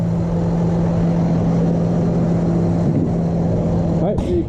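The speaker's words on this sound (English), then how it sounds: "Hopefully you can hear me alright with the tractor running." A tractor engine runs steadily nearby on a farm with a constant low hum and drone, and a person talks over it.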